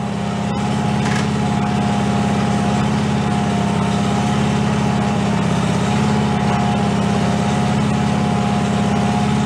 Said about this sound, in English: turn the mower deck on. Sounds pretty quiet.